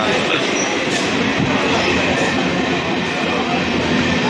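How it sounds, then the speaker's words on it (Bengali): A train arriving at a station rumbles and clatters steadily nearby, a loud continuous roar of wheels on rails with no talking. "তো ট্রেন চলে এসছে, এখন ট্রেনে উঠবো"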